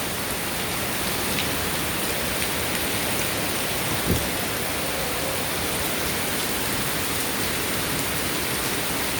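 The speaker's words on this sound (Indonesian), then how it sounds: "masihkah hujan deras seperti ini ya" Heavy rain pours down in Hong Kong, a steady, dense hiss of downpour lasting throughout, with one brief soft thump partway through and no voices.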